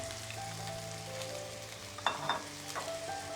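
Steady sizzling of liquid soy sauce hitting a hot frying pan while cooking soft tofu with egg, with a few sharper crackles and a clink of utensils near the end.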